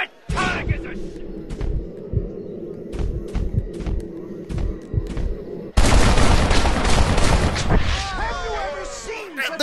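Gunfire in the Red Dead Redemption western video game rings out as a rapid series of sharp, loud shots, followed by a burst of heavier, denser shooting and clatter, with voices mixed in.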